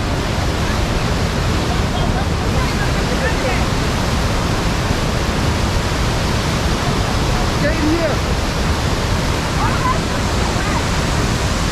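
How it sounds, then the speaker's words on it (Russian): Düden waterfall near Antalya, Turkey, with the river in flood: a loud, continuous roar of rushing, crashing water that fills the whole span without a break. "Смотрите, какие потоки воды."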